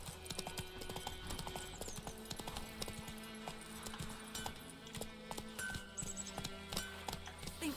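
Roach the horse galloping in The Witcher 3, a rapid, steady clip-clop of hooves with a faint whinny, distant and soft against game ambience, no clear talk.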